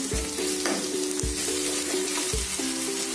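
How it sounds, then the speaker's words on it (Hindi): Onions frying on medium heat in a pan for Rajasthani kadhi, a loud close sizzle with repeated stirring scrapes about once a second and a steady tonal hum beneath, no talking. "दो से तीन मिनट के लिए मीडियम आंच पर प्याज को अच्छे से भून लेंगे।"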